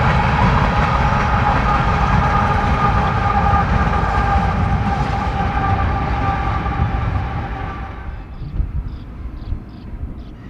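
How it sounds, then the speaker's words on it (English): Freight train hauling coal, grain or ethanol rolls past on a line in the Peoria area, a loud steady rumble with track noise that fades somewhat near the end, leaving lighter clatter. "Trains hauling coal, grain, or sometimes ethanol can be spotted running this line"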